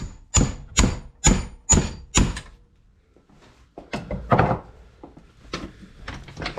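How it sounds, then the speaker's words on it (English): Five loud, evenly spaced metallic hammer blows drive a bearing and seal out of a Mini front hub during a hub rebuild, followed by a pause and then lighter, irregular knocks and clunks. "Now hopefully we'll just knock the bearing out and seal in one go."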